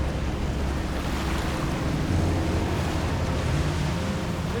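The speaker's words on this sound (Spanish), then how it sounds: "Pasar las olas, salir por la desembocadura del río y poder entrar al mar. Hoy hay olas" Ocean waves breaking at a river mouth, a continuous loud wash of surf mixed with wind noise and the rumble of a boat, steady and close throughout without speech.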